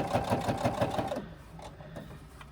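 A domestic sewing machine runs a quick, even burst of stitches along the pressed hem of a crossbody bag, then stops and leaves a quieter stretch of faint clicks and handling.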